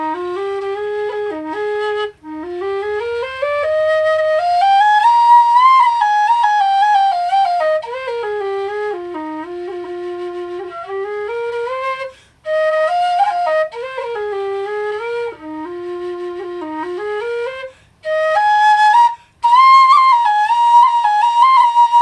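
A Reviol low whistle with a large head plays a slow melody, breathy sustained notes gliding up and down in long phrases separated by brief pauses, solo and close.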